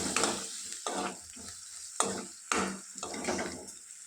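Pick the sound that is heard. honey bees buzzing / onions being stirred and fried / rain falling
onions being stirred and fried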